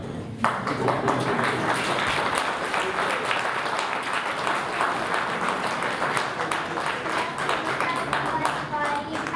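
An audience at a Christmas carol concert breaks into loud, dense applause that carries on without pause, with scattered voices and a few bright pings beneath the clapping.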